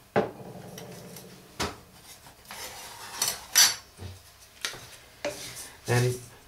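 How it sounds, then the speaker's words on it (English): Grated coconut being stirred in a hot pan over medium heat for a sweet, with intermittent scraping and clattering strokes of a utensil against the pan, moderately faint and without talk. "keep stirring because otherwise it will burn in the bottom."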